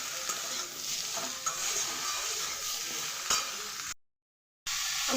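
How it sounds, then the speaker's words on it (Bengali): Vegetables seasoned with salt and turmeric fry in a pan for shukto, a dense, continuous sizzle broken by stirring scrapes and a brief dead-silent gap near the end. "দিয়ে এবার সবজিটাকে ভেজে নেব"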